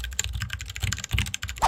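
Rapid, uneven keystrokes on a secondhand mechanical keyboard clack close and clear, with no voices, in a short burst of steady typing.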